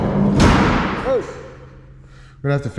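A jammed cab door on an old truck, off the road for fifty years, slams with a loud heavy thud near the start, followed by metallic ringing and a shorter knock, with brief talk at the end.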